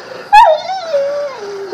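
A dog lets out a sharp yip followed by a drawn-out, wavering whimper, close and fairly loud, alone without talk.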